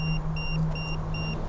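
Electronic beeps sound in a recurring pattern, about four short tones repeated at steady intervals over a constant low hum, fairly loud and close.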